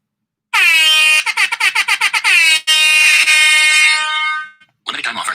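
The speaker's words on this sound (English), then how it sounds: "We'll give you your air horn." Air horn blasts from a soundboard, loud and harmonic: one long blare, a rapid stutter of short honks, another sustained blast that fades, then a brief noisy burst at the end.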